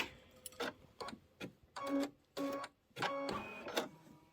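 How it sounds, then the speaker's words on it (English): An embroidery machine stitches down an applique on a quilt block, giving quiet, close bursts of rapid mechanical ticking and whirring separated by short pauses, with no talking. "we're going to stitch it down"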